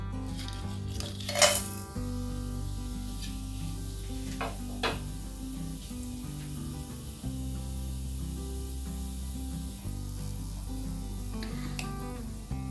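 Whole spices, cloves, cinnamon, bay leaf and star anise, go into hot oil in a pan, with steady sizzling, a metal clank and utensil scraping throughout, no talking.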